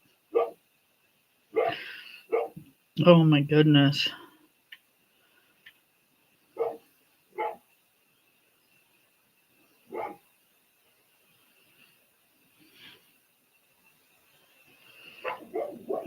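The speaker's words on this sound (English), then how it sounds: "He's either barking at the bunnies" A dog in a backyard where rabbits and deer pass barks in short, separate bursts spread over a quiet stretch, a couple of times in quicker runs, with a brief voice speaking early on.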